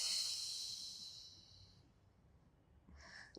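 A long, soft exhale during a yoga stretch, steady breathy hiss fading over a couple of seconds, followed by a brief quieter breath near the end.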